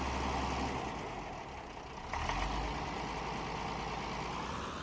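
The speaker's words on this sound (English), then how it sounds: "Interesting sounding tractor." A tractor engine in Farming Simulator 19 runs at a steady low idle, a continuous droning hum with a brief shift in pitch midway, heard alone without talk.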